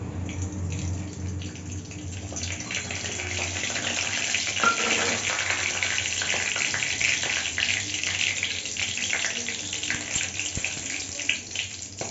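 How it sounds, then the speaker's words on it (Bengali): Bay leaves, garam masala and cumin seeds sizzle in hot oil as the tempering for a vegetarian potol dorma; a steady, fairly loud frying hiss runs throughout. "তেল দেওয়ার পরে এই দেখো তেজপাতা দুটো একটু গরম মশলা আর সাদা জিরে ফোড়ন দিলাম"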